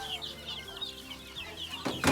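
Chickens, roosters among them, cluck on a farm in a steady busy chorus of overlapping calls, with a louder, sharper burst of clucking near the end.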